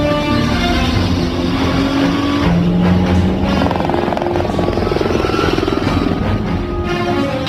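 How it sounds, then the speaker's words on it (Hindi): Helicopter in a chase scene from a dubbed Hollywood action-adventure comedy, a loud, continuous rotor and engine drone with a steady throbbing pulse that stays close and strong throughout, layered with other engine noise. "वो हेलीकॉप्टर से आ रहे हैं।"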